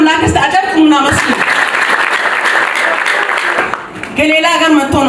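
A church congregation claps together in praise, a dense sustained round of applause that swells through the middle, with a voice speaking over it at the start and again as it fades.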